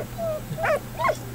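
A dog in the video game Valiant Hearts gives two short, sharp barks with a whimpering tone, each ringing out clearly over a low steady hum.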